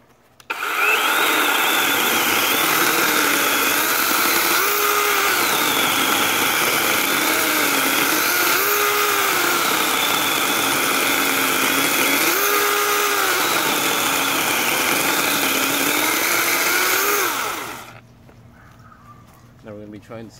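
A Dewalt DCCS620 20V cordless chainsaw cuts a stick branch with a loud, steady electric whine that bogs in pitch several times under load, then cuts off and falls quiet.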